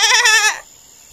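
A male goat in a children's story bleats once, loudly and clearly, a wavering, quivering cry lasting about half a second with nothing else around it, then cutting off to near silence.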